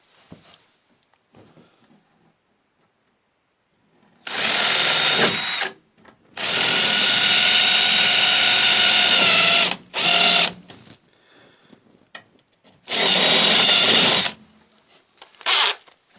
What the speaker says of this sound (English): So let's go and get a drill.